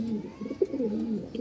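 A Lahori pigeon coos nearby in a soft, rolling, low murmur that swells and dips in short pulses over a second and a half.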